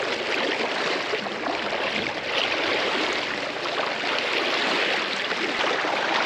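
A river current rushes steadily in the Altai mountains, a broad continuous wash of flowing water that stays loud and even throughout, with no voices.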